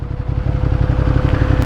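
A Ducati Monster 937 Plus engine runs with a deep, steady throbbing pulse, close and loud, with some wind rush over it.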